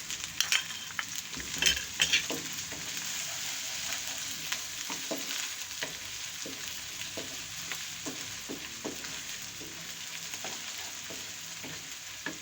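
Whole cumin seeds sizzling in hot oil for a dhaba-style masoor dal tadka, a continuous bright frying hiss with a few louder crackles near the start and occasional soft stirring clinks from a utensil.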